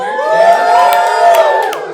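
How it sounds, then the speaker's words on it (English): A live studio audience at a late-night talk show cheers loudly and continuously, a dense crowd roar with whoops and high shouts that swells and then fades slightly toward the end. "Let me hear your cheer."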